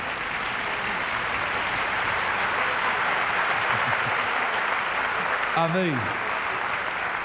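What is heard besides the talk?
congregation applause for Jesus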